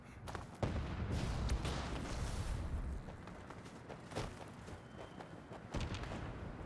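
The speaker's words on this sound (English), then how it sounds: "Don't worry about all the explosions." Explosions and gunfire in the video game Fallout 76 form a faint, continuous rumble with repeated sharp booms and blasts scattered throughout.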